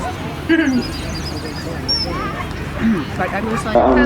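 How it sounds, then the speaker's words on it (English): A gundog whimpers and yelps in short, high whines amid a busy babble of voices nearby at a gundog display at the Usk show. "Clearly Bella's dog is beaten to within an inch of his life."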